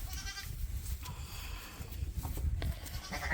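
A ewe bleats on a farm pen just after lambing, a few short calls close by amid rustling straw and soft background farm noise.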